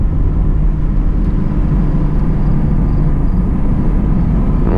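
A 2020 Camaro RS V6 1LE is driven hard in sport mode, heard as a loud, continuous low engine and road rumble from inside the car, steady with no distinct breaks.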